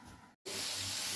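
Boiled radish and spinach greens, salted, hit a hot pan with a loud, steady hiss after a brief silence, the broad sizzle continuing close and unbroken.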